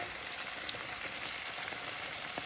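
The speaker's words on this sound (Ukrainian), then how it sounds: "Смажаться наші грибочки." Oyster mushrooms frying in a pan, giving a continuous soft hiss of sizzling with small scattered crackles, quiet and steady with no voices.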